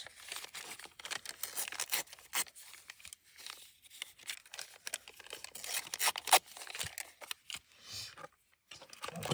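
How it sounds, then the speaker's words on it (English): A book page is folded into thirds on a craft table, producing close crisp paper crinkles, creases and rustles in irregular bursts, moderately loud with brief quiet gaps. "Let's do some book page. Let's fold it into 3s."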